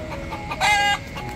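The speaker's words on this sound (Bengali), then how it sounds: "বাংলাদেশি মুরগি মোরগের মতো ডাক দেয়।" A wild chicken perched in trees in Key West gives one short, loud clucking crow over a low bed of ambient noise.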